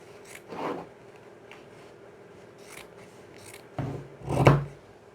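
Scissors snipping through fabric while cutting the back neckline of an off-shoulder kimono peplum top, a few soft close cuts, the last pair louder and heavier, with quiet gaps between.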